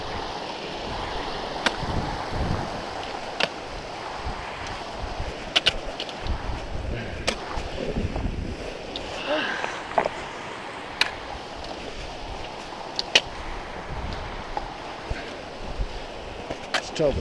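A creek flows beside a rough, rocky hiking trail on the Colorado Trail, a steady rushing wash of water mixed with wind noise and occasional footsteps and knocks.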